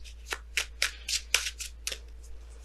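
Tarot cards shuffled and drawn from the deck in a run of quick, crisp riffling bursts about every quarter second, close and clear over a quiet room with a faint low hum and no talk.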